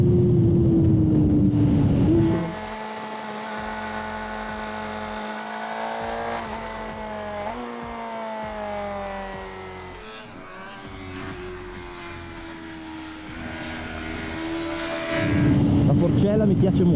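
A Honda CBR600RR motorcycle ridden on a wet track, the engine roaring loud and close, its pitch rising and falling through gear changes, with a steadier drone in the middle before it revs hard again.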